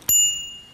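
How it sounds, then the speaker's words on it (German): A small finger bell, the kind worn on a finger, gives a single bright ding that rings out and fades over a short moment, alone with no talk. "auch so eine kleine Klingel"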